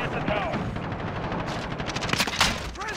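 Gunfire in the Call of Duty Modern Warfare video game crackles in rapid bursts during short-range fighting, with a voice speaking over the shots.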